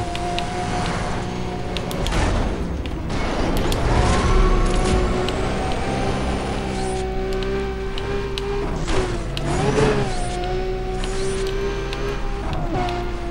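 Toyota Supra without a rear wing racing in Need for Speed Undercover, its engine droning steadily with rising and falling pitch as it accelerates and shifts, a constant loud whine layered over game sounds.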